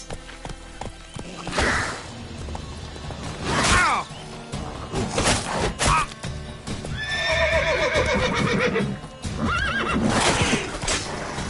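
Roach the horse in the Witcher 3 game whinnying several times between bursts of trotting hoofbeats, close and loud over background music, with a brief spoken line.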